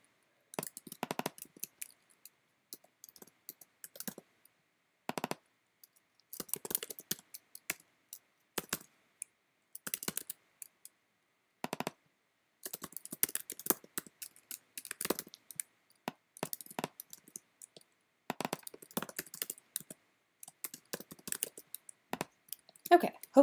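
Computer keyboard typing in irregular bursts of quick clicks with short pauses, close and moderately loud, while working through a coding session for a noise-based terrain generator.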